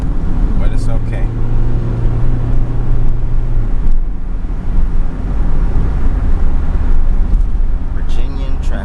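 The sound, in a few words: highway traffic in Virginia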